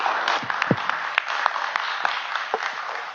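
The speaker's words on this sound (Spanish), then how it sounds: "Fuertes aplausos." Audience applause at a municipal public event in Huaral, Peru, as the municipal manager is invited up: a steady wash of clapping from a crowd holding an even level for a few seconds, with a few louder individual claps standing out.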